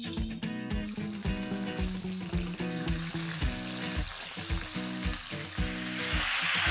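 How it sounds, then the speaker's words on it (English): Chicken pieces fry in hot oil, giving a steady close sizzle with rhythmic repeated stirring or scraping pulses throughout and no talking. "The oil is nice and hot. Let's fry the pieces of chicken."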